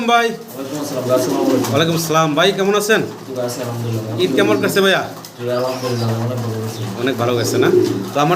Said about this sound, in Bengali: অনেক কবুতর আছে যেগুলো বাই সেল করবো